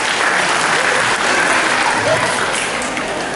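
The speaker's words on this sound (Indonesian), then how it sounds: "Tepuk tangan untuk Ngesti Pandowo." Audience applauding the Ngesti Pandowo theatre troupe at a stage performance, a loud, dense, steady wash of clapping from a crowd that holds evenly for a few seconds.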